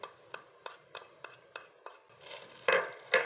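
A spoon clinks and scrapes around a bowl as jowar flour is mixed with asafoetida, turmeric and white sesame seeds, giving a run of sharp, evenly spaced taps that turns into louder, busier scraping near the end, heard close with no talking.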